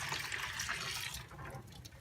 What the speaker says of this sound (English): After letting the soap and water sit for about 5 minutes, the cage is ready to dump out.